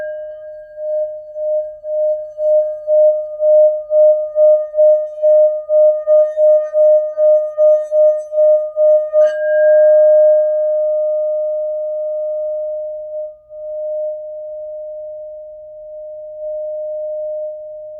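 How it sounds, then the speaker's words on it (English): A singing bowl rung to clear the space during a new moon guided meditation: a steady pure tone pulses with rhythmic strikes for about nine seconds, then swells into one long sustained ring that fades slowly, close and alone. "I'm going to clear the space with my sound bowl"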